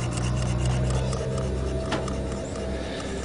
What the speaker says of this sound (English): we're sanding the points as usual for anything that sat forever when it's old